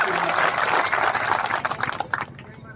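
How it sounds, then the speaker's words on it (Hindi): Enthusiastic crowd applause at a political speech gathering, dense and loud, tapering off near the end. "एक बार जोरदार तालियों से"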